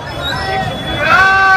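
A crowded night street market at Chandni Chowk, Amravati, fills the air with close, continuous crowd babble, with occasional tonal sounds rising through the bustle.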